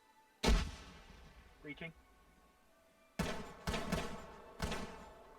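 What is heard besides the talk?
flashbang grenade detonating in a video game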